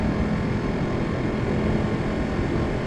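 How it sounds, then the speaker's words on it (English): A Ducati 1199 Panigale motorcycle engine roars continuously under acceleration. Heavy wind rush mixes in with the dense, steady drone. "this bike accelerates so effortlessly"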